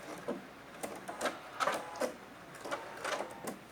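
A sewing machine stitches a seam on a fabric toiletry bag in a series of short, quiet whirring bursts with brief pauses between runs, close and alone.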